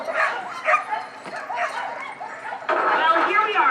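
Sled dogs on a trail by a lake in Alaska bark and yip excitedly in repeated bursts, close and fairly loud, with someone talking over them.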